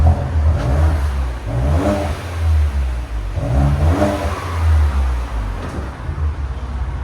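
A Ford Edge ST with a 2.7L EcoBoost engine and its muffler deleted revs repeatedly, three deep surges rising over a steady low rumble, heard close with no talk.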